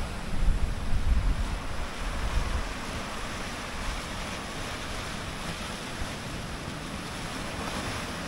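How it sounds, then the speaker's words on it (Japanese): Surf rolls and washes continuously at the Osezaki coast in Japan while strong wind roars and buffets the microphone, louder gusts at the start, steady rushing noise after. "まあ風が強いんで波もありますね。"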